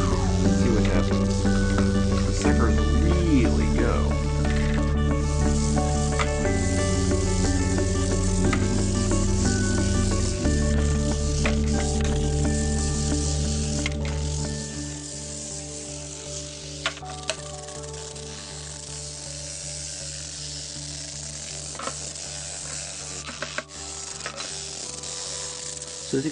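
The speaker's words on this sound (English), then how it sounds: "an easy 5-minute toothbrush robot, the bristlebot from Evil Mad Scientist Laboratories" A toothbrush bristlebot from Evil Mad Scientist Laboratories, powered by a battery and a vibration motor, gives a continuous loud buzzing rattle that fades to a quieter, thinner buzz about halfway through, with a voice talking at times.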